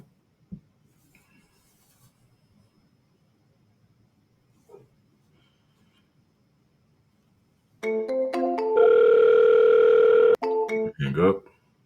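A telephone dial tone sounds loud and steady on a cold-calling line for a few seconds, broken by short beeps and clicks, after a long stretch of near silence.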